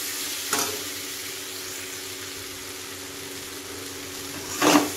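Curry simmering and being sautéed in a pan gives a steady, low sizzle with soft stirring, and two brief louder scrapes come near the start and the end.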